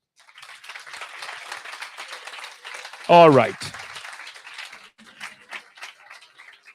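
An audience at a student tech competition claps in a lively burst of applause lasting several seconds, with a short spoken interjection cutting in midway.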